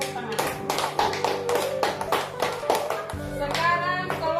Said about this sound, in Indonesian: Kembali ke tempat, tepuk tangan.